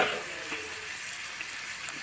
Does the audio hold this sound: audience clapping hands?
no